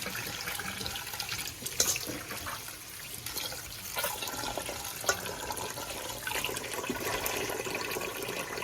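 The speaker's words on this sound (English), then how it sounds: "Pour out the water." Water splashes and trickles steadily, like liquid being poured out into a sink while rinsing homemade butter, with a few sharper splashes and clinks along the way.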